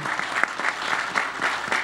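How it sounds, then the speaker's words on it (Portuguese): A short burst of audience applause greets Ivo Melo, IRGA's regional coordinator, at a rice market forum at Expointer, with many hands clapping close together in a lively, slightly pulsing patter. "Aplausos ao Ivo"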